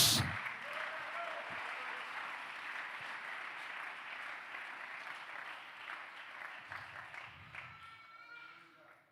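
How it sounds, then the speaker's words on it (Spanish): Church congregation applause during a Spanish-language sermon, a dense sustained round of clapping that fills the room from start to finish and fades out at the end, with faint voices beneath. "Alguien que aplauda a Dios."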